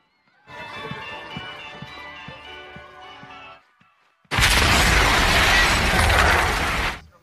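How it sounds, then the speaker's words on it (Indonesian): A car bomb in an action movie erupts into a loud, sustained roaring explosion after a stretch of tonal mechanical rattling and a brief silence, lasting a few seconds before cutting off. "mobil pun meledak dan menewaskan banyak orang"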